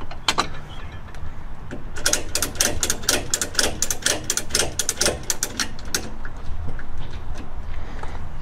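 Repeated mechanical clicks and ratcheting snaps from a quick-release strap buckle on a 2019 Bass Tracker Pro 170 boat, a dense run of sharp close clicks through most of the stretch with no talking.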